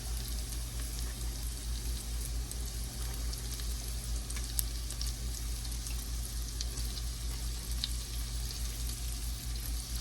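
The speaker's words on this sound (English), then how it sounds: "Right now I just wanna throw the onions in. We're gonna saute the onions." Onions sauté in a pan for ramen, giving a steady, soft sizzle throughout with occasional faint crackles and spatters, close and continuous without talk.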